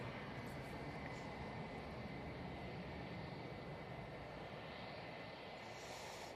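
A Ryanair airliner arriving from Venice at Manchester Airport, heard as a broad, steady jet roar at a distance that holds level throughout without fading.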